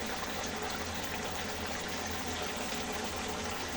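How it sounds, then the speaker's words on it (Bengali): Cut yardlong beans being washed under a steady, even rush of running water that holds continuously without pause and with no talking. "এই যে বটবটি সিমটা কেটে ধুয়ে রাখছি।"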